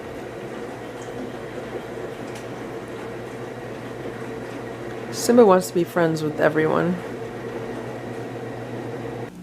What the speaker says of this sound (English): The noise you hear in the background is the dishwasher.